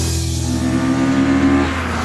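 Race car engines idle and rev steadily in the pit lane at Donington Park circuit, a continuous loud mechanical drone with a low tonal hum that holds through the moment, with no pauses or talk.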